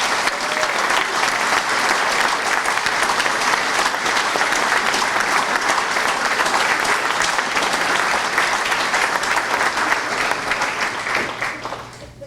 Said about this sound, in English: let's have one big round of applause for the athletes and one big round of applause for the coaches who coach those athletes